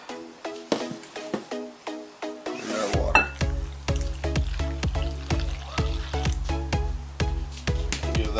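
Sugar, salt, yeast and powdered milk are stirred together in a bowl for pizza dough, with quick, evenly spaced clinks of the utensil and a low steady hum joining in partway through.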